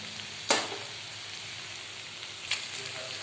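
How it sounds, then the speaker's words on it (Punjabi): Spices frying in a pan for masala bhindi give a steady, close sizzle throughout. Two sharper scraping stir sounds cut in briefly, one near the start and one later. "ਥੋੜੀ ਦੇਰ ਆਪਾਂ ਮਸਾਲੇ ਹੋਰ ਪਕਾ ਲਾਂਗੇ ਜੀ"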